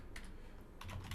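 Keystrokes on a computer keyboard come in two short quick bursts, faint and close, with no talking.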